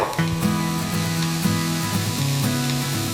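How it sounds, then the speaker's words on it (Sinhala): Chopped carrots, leeks and onions frying in a pan as a pumpkin meatball dinner is cooked, a steady close sizzle running throughout, overlaid by prominent tonal background music. "අපි දැන් කපාගත්ත කැරට් ලීස් ලූණු ටික ෆ්‍රයි කරගමු"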